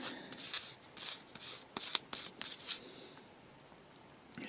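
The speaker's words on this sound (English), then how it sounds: "And then a polisher." A polisher is rubbed over a small part of a 1/12 scale Tamiya model riding set, producing quick close scrubbing strokes in short irregular bursts with light handling noise.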